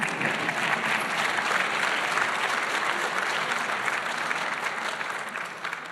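Steady applause from an award ceremony audience as honorees Josephine Chauhan and Amit Singh are called up, a dense, even wash of clapping holding for the whole stretch and easing slightly at the end, with no talk over it.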